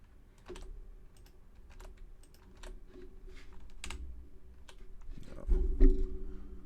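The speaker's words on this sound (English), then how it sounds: "I can type" Keys clattering on a computer keyboard while filling in a web survey form, a steady run of close taps with short pauses and a louder burst of strokes near the end.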